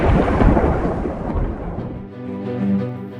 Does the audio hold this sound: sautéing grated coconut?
no